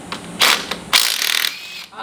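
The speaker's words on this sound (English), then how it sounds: "I need a 19 millimeter wrench." Ratcheting 19 mm wrench working a bolt on a car, heard as a few bursts of quick clicking, close and fairly loud, with short pauses between the strokes and no talking.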